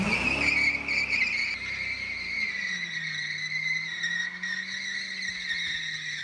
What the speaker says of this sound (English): Those tires are so loud.